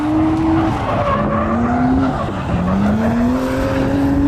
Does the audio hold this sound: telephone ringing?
no